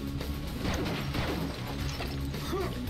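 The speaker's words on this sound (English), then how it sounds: "that's a nice little explosion of the glass" Glass shattering in an explosion in the PlayStation version of Quake 2, a dense burst of crashing, clattering game effects layered over mechanical noise and music, fairly loud throughout.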